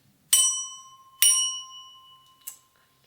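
A small bell from a children's sound-matching toy is rung three times, two clear bright strikes with ringing decay followed by a softer, shorter third, close and alone in a quiet room.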